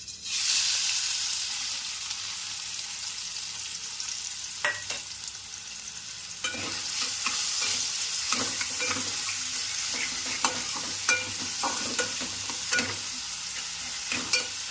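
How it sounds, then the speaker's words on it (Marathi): Chopped onion fries in hot oil in a pan for a spicy crab curry, giving a steady sizzle with occasional stirring scrapes and knocks against the pan, close up and without talk. "कांदा चांगला परतून घेऊया."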